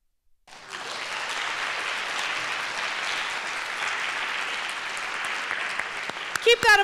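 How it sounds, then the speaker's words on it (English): An audience claps loudly at a youth spoken word poetry exhibition, the applause starting abruptly and staying dense and even for about six seconds before a voice begins over the tail. "Keep that applause going for"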